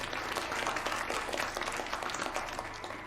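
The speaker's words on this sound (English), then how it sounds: "And a round of applause to Miss Iona McDougal" A crowd applauding a Highland runner at a Highland dance competition, a steady, dense wash of many hands clapping that carries on throughout at an even level, fading slightly at the very end.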